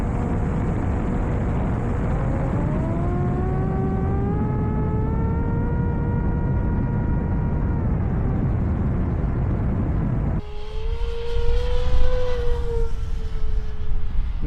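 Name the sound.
model airplane flying past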